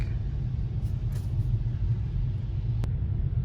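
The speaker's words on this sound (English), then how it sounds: "More traffic." Steady highway traffic rumbles from a car on a North Carolina to Florida road trip, a continuous low drone of engines and tyres, with a faint brief hiss part way through.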